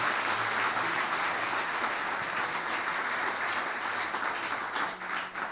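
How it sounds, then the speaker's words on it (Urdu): Loud, sustained applause from a church congregation, dense and continuous clapping that fills the room and begins to thin slightly near the end. "زوردار تالیاں ہو جائیں نہمیہ کے لیے."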